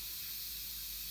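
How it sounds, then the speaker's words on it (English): Steady, even hiss of pressure venting from an Instant Pot while making broccoli cheddar soup, fairly quiet and unbroken for about a second, with no voices. "we are letting the pressure out of the Instant Pot"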